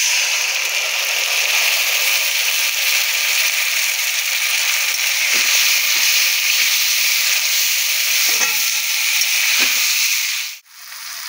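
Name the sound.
onions frying and being stirred in a pan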